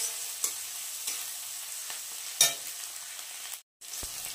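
Green chilies and tomato frying in a pan with a soft steady sizzle, broken by a few sharp scrapes and taps of a spoon being stirred through, with a brief quiet gap near the end.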